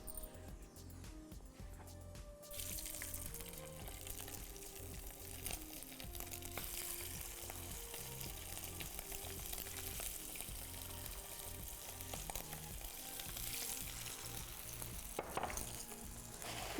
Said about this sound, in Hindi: थोड़ा सा और चिकन रह गया, इसको भी मैं फ्राई कर लेती हूँ।